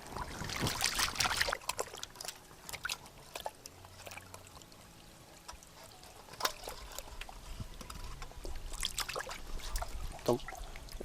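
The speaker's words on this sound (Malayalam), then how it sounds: "ആ ഡാമിലെ വെള്ളത്തിൽ കൊണ്ട് തന്നെ കഴുകിയെടുക്കാം." Fish being washed by hand in dam water outdoors, with irregular splashes, pours and trickles that come and go in bursts, moderately close and fairly quiet, with no speech.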